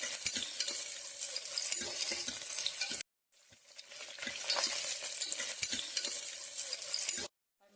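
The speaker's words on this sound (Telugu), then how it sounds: "5 మినిట్స్ ఆగి చూస్తే మంచిగా ఫ్రై అయితే అవుతున్నాయి" Ingredients for a chicken gravy curry fry and get stirred in a pressure cooker, giving a steady close sizzle with scraping stir strokes that break off briefly near the middle and again at the end, with no voices.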